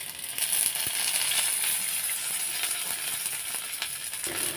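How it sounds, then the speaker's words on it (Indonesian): Chilies fry in hot oil in a pan on a home stove, a loud, continuous sizzle with crackling pops and an occasional clink of a utensil, no voices. "Terus lanjut ini aku nyalain kompor, terus mau goreng cabenya dulu."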